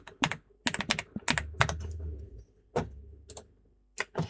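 Typing on a computer keyboard, with quick irregular clusters of crisp key clicks separated by short pauses, close and clear with no talking.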